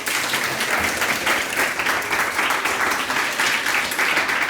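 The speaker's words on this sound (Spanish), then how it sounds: "Un aplauso para ella." An audience at an informative breakfast for International Childhood Cancer Day applauds steadily, a dense, continuous wash of many hands clapping that stays evenly loud for several seconds with no talking over it.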